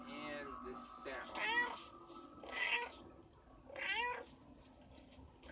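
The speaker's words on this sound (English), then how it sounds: "Because cats make this sound." A cat meows several times in clear, drawn-out calls spaced about a second apart, close and fairly loud, with no talking over it.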